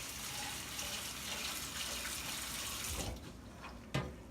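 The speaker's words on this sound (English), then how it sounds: "we'll begin to wash them with cold water" Cold tap water runs steadily into a pot of lentils for washing, a continuous close splashing flow that eases off near the end with a brief clink.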